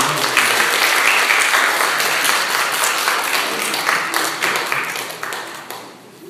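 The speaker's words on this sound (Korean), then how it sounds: "박수로 좀 초청해 주시면 좋겠습니다." Audience in a Korean church congregation applauding together, a dense, loud burst of clapping that holds steady then tapers off toward the end, with no talking.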